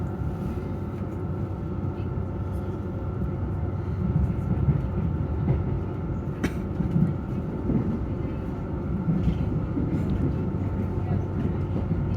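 A Southern passenger train travels between stations toward Shepherd's Bush, a steady low rumbling rail drone with faint rattles and a brief sharp click, heard from inside the carriage.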